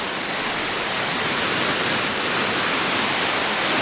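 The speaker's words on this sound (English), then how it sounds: "the water is flowing down the walkway" Rainwater pours down a garden walkway during a storm, making a dense, steady rushing wash that holds constant and close without a break.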